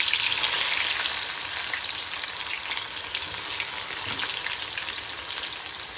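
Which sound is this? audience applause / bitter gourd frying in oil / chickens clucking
bitter gourd frying in oil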